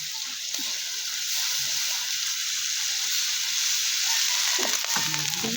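Bottle gourd sautés in a pan for ginisang upo, giving a loud, steady sizzle and hiss throughout, with a few clattering stirring sounds near the end.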